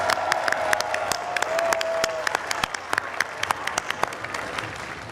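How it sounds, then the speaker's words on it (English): A large audience at the World Culture Festival by The Art of Living breaks into sustained applause, a broad crowd roar with distinct individual claps popping out, moderately distant and continuous. "Can we hear you with a big round of applause if that's the case?"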